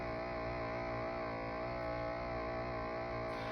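Control tones from a Teddy Ruxpin animatronic bear's audio track play as a steady, buzzy electronic drone, constant in level with dense layered harmonics and no voice.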